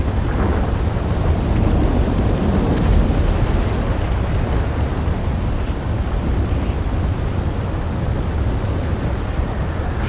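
Bombs explode in an air-combat video game, a loud, continuous, heavy rumbling blast that swells and churns close by before easing slightly, with no speech.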